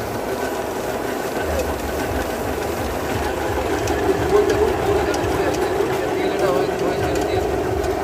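A 16-bowl mustard oil press machine running in a workshop, producing a steady mechanical rumble and rhythmic clatter at close range while someone talks over it.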